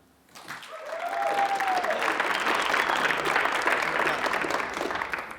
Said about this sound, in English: So we're gonna do our applause one more time.